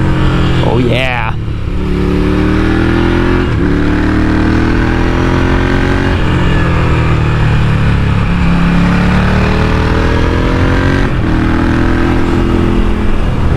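A new touring motorcycle's engine drones loud and close while riding, rising and falling in pitch through shifting revs amid rushing wind.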